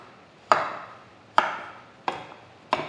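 Knife chopping food into pieces for a ground spice paste in a home kitchen: four separate sharp chops spaced roughly a second apart, close and fairly quiet, with no talking.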